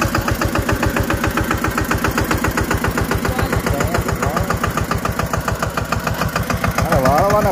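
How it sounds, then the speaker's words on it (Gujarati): An Eicher 188 mini tractor engine runs steadily nearby with a fast, even diesel chug that stays loud and constant throughout, with no speech over it. "આ જે ટ્રેક્ટર છે એ આઈસરનું છે"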